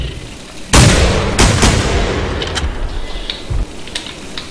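A loud, close rifle shot cracks out in theHunter: Primal, a dinosaur-hunting game, then a few sharper follow-up bangs and fading echoes.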